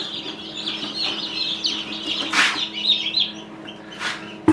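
High, continuous cheeping from about thirty newly hatched chicks in an incubator fills the space, with a few louder peeps standing out over a low background hum.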